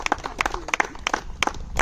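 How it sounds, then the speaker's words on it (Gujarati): Crowd applause for sponsors at the opening ceremony of a volleyball tournament, with loud, dense, irregular hand claps sounding close and continuous for the whole moment. "દીપુભાઈ, કૌશલ દેસાઈ, સુનિલભાઈ અને રીતેશભાઈ, એ દરેક સ્પોન્સરને આપણે વન્સ અગેન જોરદાર તાળીથી વધાવવાના."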